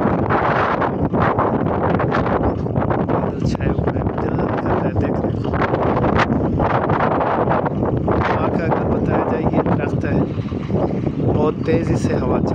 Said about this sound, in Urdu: تیزی سے ہوا چل رہی ہے حد سے بھی زیادہ.